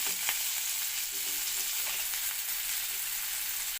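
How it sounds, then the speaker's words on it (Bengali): Capsicum and onion fry in a pan with a steady, close sizzle of hot oil that holds evenly throughout, joined by a few faint scrapes of stirring. "ক্যাপসিকাম আর পেঁয়াজটাও আমার ভাজা হয়ে গেছে, লাল লাল করে ভাজা হয়ে গেছে।"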